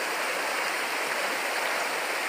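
Continuous broadband rush of the Perequê waterfall stream in Peruíbe, water pouring steadily and close with no breaks, a dense even hiss filling the whole stretch.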